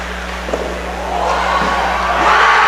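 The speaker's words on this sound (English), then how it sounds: "the crowd goes wild" Hockey crowd at a high school senior night game rising into a broad roar after a blocker save, swelling louder toward the end over steady arena hum.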